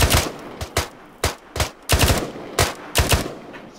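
Video game gunfire comes in short, sharp bursts of several close, loud shots each, separated by brief pauses, with no one talking over them.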